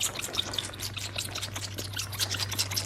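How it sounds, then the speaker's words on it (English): Water pours from a bucket onto spilled milk on the floor, a steady close splashing and trickling wash of sound that continues throughout at moderate level with no voices. "Now I gotta go find a bucket of water and pour it on this."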